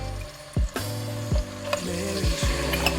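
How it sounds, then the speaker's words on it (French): Tuna pieces dropped into hot olive oil, frying with a soft continuous sizzle and several low thuds and stirring knocks. "Suffisamment chaude, on rajoute les morceaux de thon et on diminue le feu au maximum."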